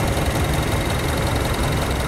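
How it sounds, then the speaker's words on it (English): A 2011 Mazda CX-7 with a 2.5 liter dual-overhead-cam four-cylinder and variable valve timing idles steadily up close, a smooth, even engine drone with no talking. "As you can hear the motor, it is just purring away like brand new."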